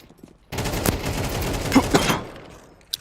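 Rapid gunfire bursts from a Counter-Strike pro league match, a quick headshot amid sharp repeated shots, loud and close over a steady game background, ending with one crisp final crack.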